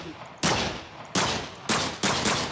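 Four sharp gunshots from a 1911 pistol in Minecraft's Flans Mod, fired at an uneven pace, each with a loud punchy onset and a slowly fading tail.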